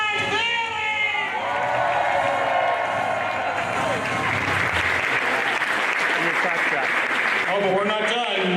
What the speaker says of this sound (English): Ladies and gentlemen, make noise for John Bailey!